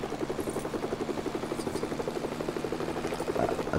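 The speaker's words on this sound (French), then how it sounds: "On va prendre hélicoptère de la presse, non. Hélicoptère du monde de bof. Hélicoptère du raft." A helicopter in the Lego Marvel Super Heroes video game thrums with a fast, steady rotor chop that pulses evenly throughout at moderate volume, with no talk.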